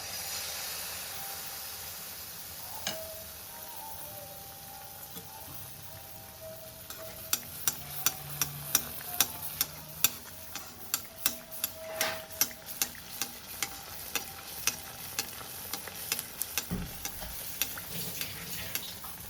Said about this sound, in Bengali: এই যে এরকমভাবে আমি পিঠেগুলি সব ভেজে নিচ্ছি